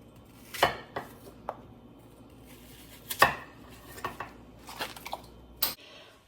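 Apples being sliced with a knife on a board, a few separate crisp cuts and knocks spaced irregularly against a quiet background, close by.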